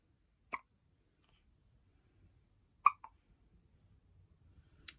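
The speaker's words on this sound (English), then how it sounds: "She always gets hiccups after eating." A newborn baby hiccups after eating, three short sharp hiccups spaced a couple of seconds apart, close and fairly quiet against a near-silent room.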